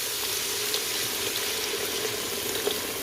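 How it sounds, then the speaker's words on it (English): Chicken broth poured from a heavy container into a cooking pot gives a continuous soft, hissing splash and trickle, fairly quiet and with no talking. "Now I'm going to go ahead and pour my chicken broth in."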